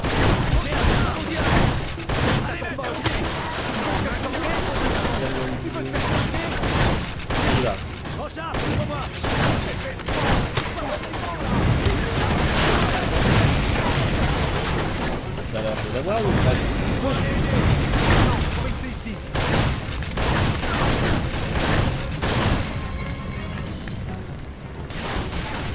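Far Cry 2 firefight with dense, continuous gunfire and booming impacts, bullets ricocheting off metal, loud and close throughout, with French-speaking voices talking over the shooting.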